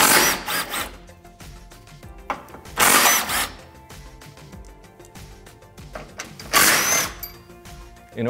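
Power tool bursts while removing 14mm oil pan bolts on a Honda S2000: three loud short whirring runs separated by quieter mechanical clicks and rattles, close up, with no talking.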